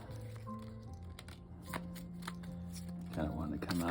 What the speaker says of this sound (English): I did a few more shuffles.